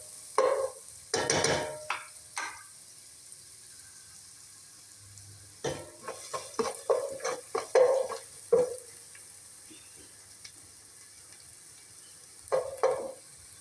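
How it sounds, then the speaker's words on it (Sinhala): Carrots being fried and stirred in a pan for a Sri Lankan-style nasi goreng: scattered scraping stirs and short sizzling bursts, close by, separated by quiet pauses. "ඊට පස්සේ අපි දාගන්නවා කැරට් චුට්ට පොඩ්ඩක් මේ ෆ්‍රයි වෙන්න දෙන්න"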